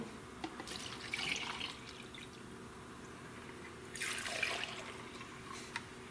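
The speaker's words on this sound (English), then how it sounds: "We'll pour it into each cylinder separately." Liquid poured into the cylinders of a 110's engine that is being stripped to find a fault, heard as two short splashing pours about three seconds apart over a low steady background hum.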